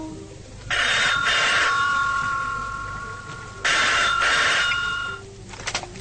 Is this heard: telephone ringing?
yes